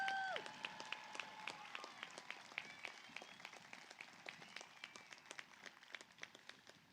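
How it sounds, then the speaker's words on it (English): Scattered applause at a high school graduation ceremony for the graduating class, starting after a brief electronic tone, then irregular individual claps that thin out and fade over several seconds, faint and distant. "Let's give them a round of applause."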